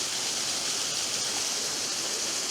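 Steady, broadband rush of a hidden waterfall in the woods, continuous and fairly loud throughout with no voices.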